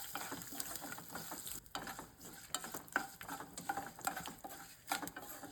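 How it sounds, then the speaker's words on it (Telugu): Curry leaves frying in hot oil for a tempering, with turmeric and asafoetida added, giving a light crackling sizzle broken by quick stirring scrapes in the pan, fairly quiet and without talk. "కొద్దిగా కరివేపాకుని వేసి లైట్గా దోరగా వేయించండి"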